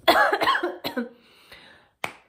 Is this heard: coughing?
yes